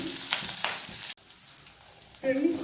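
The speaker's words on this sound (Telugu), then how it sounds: "బాగా ఫ్రై చేసేసుకోవాలి." Onions with curry leaves frying in a pan for a beans fry, with a soft sizzle, a brief stir, a short quiet gap and then a brighter crackle.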